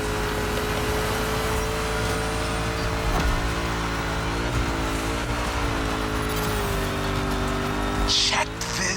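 A rally raid prepped Mustang GT in The Crew Motorfest video game drives with a steady, loud engine drone that rises and shifts pitch as it runs, ending in a short scuffing burst, with no speech.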